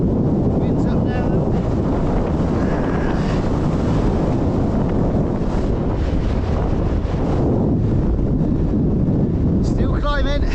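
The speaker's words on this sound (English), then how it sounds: "Wind's up now." Strong wind buffeting the microphone on a steep, rocky mountain climb up the Sugar Loaf, a loud continuous roar with gusty surges throughout.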